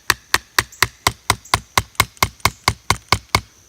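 Metal piece being hammered into a pot crane, about fifteen sharp, ringing metallic strikes in an even rhythm, close and loud with no talking.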